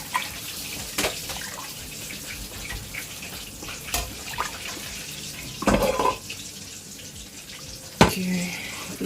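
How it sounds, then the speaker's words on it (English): Meat and chicken stock poured into a pot of Nigerian crayfish tomato stew, splashing and trickling in several short bursts over a background of steady kitchen noise. "I'm going to be adding my meat and chicken stock"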